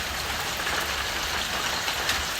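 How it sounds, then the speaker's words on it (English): Rain falls steadily during a Western Kansas thunderstorm, heard from a porch as an even, close wash of drops hitting surfaces, with no talking over it. "I love these thunderstorms."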